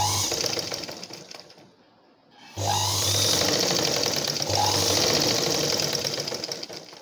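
A sewing machine stitches a blouse along the shoulder, its rapid mechanical whirr running loud and close, stopping briefly, then restarting and continuing steadily to the end.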